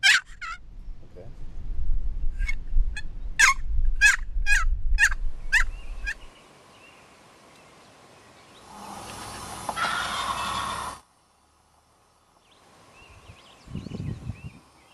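A wild turkey gobbles in a rapid series of loud, rattling calls, followed by a quieter stretch of rustling background noise.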